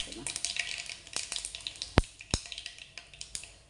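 Coconut pieces, shallots, dried chillies and curry leaves sputtering in hot oil as a tempering for meat curry, a soft continuous sizzle broken by a few sharp pops and crackles, close by with no voices.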